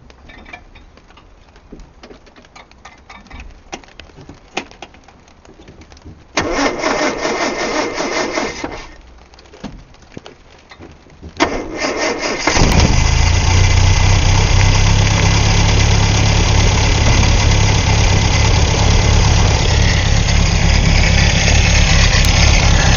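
A Series II Land Rover engine cold-starts, cranking and spluttering, then catches and settles into a loud, steady idle that runs continuously to the end.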